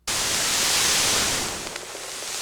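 UVI Rumble noise engine giving a steady hiss of broadband static, bright and airy, starting suddenly and holding at moderate level with a slight dip in the last second.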